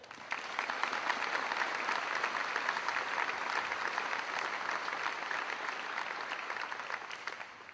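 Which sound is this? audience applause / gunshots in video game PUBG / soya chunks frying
audience applause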